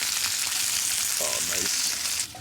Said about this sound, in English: Making myself a little egg semi-breakfast.